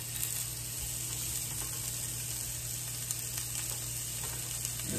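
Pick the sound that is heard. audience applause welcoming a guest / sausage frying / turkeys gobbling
sausage frying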